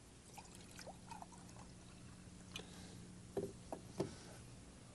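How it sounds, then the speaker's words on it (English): Clear lake water poured into jars, a quiet steady trickle with a few soft splashes and light glass knocks toward the end. "I'm going to add some clear lake water to these jars."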